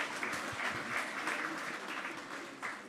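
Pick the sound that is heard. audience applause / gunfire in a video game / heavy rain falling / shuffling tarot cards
audience applause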